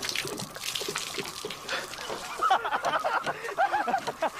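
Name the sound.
trickling water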